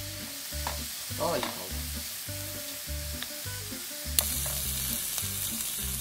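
Sliced raw mushrooms sauté slowly in a pan over medium heat, giving a steady soft sizzle with occasional stirring scrapes and a brief spoken remark partway through.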